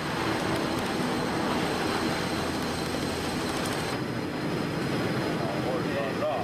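An Airbus A380 dives at high speed during a flutter test, giving a loud, steady broadband roar of rushing air and engines that stays constant throughout, with a slight drop in the highest hiss partway through.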